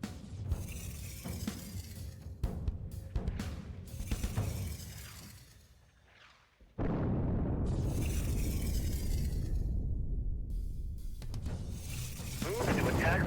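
In the space strategy game Sins of a Solar Empire, a Longsword bomber makes a bombing run. Sharp shattering blasts crack in quick bursts, then give way to a loud, sustained, rumbling roar of explosions.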